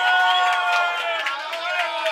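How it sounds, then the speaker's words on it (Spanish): An audience at an awards party in a Barcelona club responds with loud, sustained cheering and clapping, a dense crowd roar with music tones ringing underneath throughout. "Un aplauso para Super Iván."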